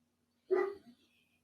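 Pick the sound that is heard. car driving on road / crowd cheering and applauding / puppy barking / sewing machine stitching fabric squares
puppy barking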